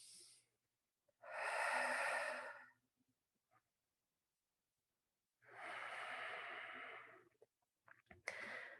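Slow, deep breaths during a heel-lift exercise on a roller, two long airy exhales separated by silence, close and breathy, with a short intake at the end.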